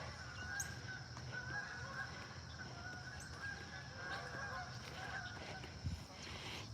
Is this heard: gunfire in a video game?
no